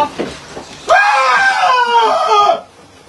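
A loud, sustained scream in a video game set around a church, a single drawn-out cry of about a second and a half that follows softer voices and sounds.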